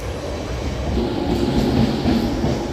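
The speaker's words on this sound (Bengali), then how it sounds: "এটা পাঁশকুড়া হাওড়া লোকাল" A Panskura–Howrah local train rolls through a station, its steady, loud rumble of wheels and carriages continuing throughout without pause.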